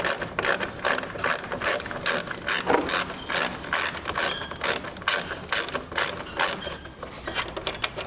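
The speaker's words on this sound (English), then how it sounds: "Just taking a couple of bolts off." Ratchet wrench clicking steadily as it backs 10mm bolts out of the front grille of a 2019 Ford Ranger, a close, rapid run of sharp pawl clicks in repeated bursts for the whole stretch.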